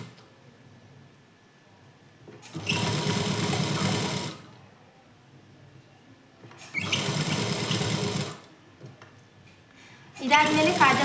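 A sewing machine stitching a plain blouse edge with no piping, running in three separate bursts of fast whirring, with a voice speaking during the quiet gaps between runs.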